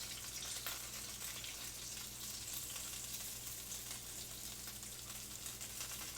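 Homemade meatballs sear in a hot pan with a steady, even sizzle and crackle, moderately close and continuous with no talking.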